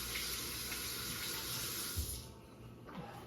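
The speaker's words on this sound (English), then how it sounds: "Wash my hand, not your hand." Tap water runs steadily into a kitchen sink as hands are washed under the stream, a continuous close splashing hiss that shifts briefly as the hands move, with no talking.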